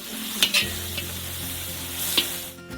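Chopped onions sizzle steadily in hot butter, with a few sharp clinks and scrapes of a utensil stirring the pan.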